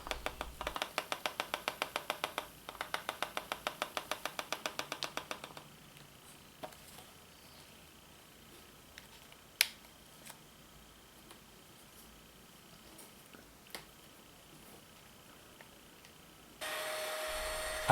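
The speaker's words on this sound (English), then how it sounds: "I like to vacuum after applying each coat of static grass to pick up any of it that got scattered around on the layout" A vacuum cleaner picks up scattered static grass from a model railroad layout, starting with a rapid rattling burst, then a quieter steady whine with occasional clicks and knocks, before a loud full-power roar at the end.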